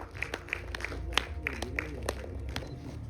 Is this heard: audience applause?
yes